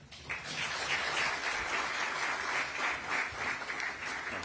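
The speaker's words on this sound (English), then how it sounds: "Please, a round of applause," A conference audience on public and private resource mobilisation bursts into applause, dense sustained clapping that starts abruptly and holds steady throughout.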